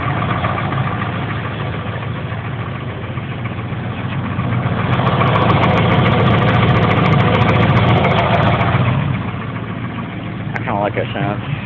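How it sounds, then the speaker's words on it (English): A 1980 Ford F100 engine idles with a diesel-like rattle, a steady mid-to-low drone that swells louder in the middle, while people talk over it. "the engine actually sounds like a diesel because of the way it rattles."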